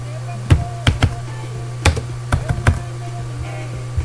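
Keystrokes on a computer keyboard while entering project budget figures, a handful of sharp, close taps in irregular clusters over a steady low electrical hum.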